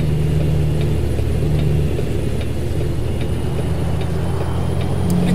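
In American Truck Simulator, a truck engine drones steadily as it climbs a steep uphill stretch and shifts up, a loud, continuous low mechanical hum with faint clicks over it and no talking.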